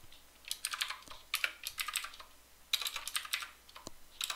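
Rapid bursts of keystrokes on a computer keyboard while coding a Java Pong game in Eclipse, crisp close clicks in uneven clusters with short pauses between, no voices.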